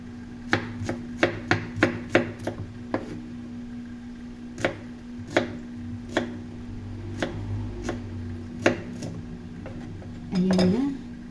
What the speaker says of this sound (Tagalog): Hiwain natin ng maliliit din yung sibuyas.